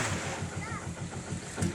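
An arriving outrigger boat's engine chugs steadily with rhythmic low thumps, mixed with wind and water noise; a faint voice-like warble passes briefly.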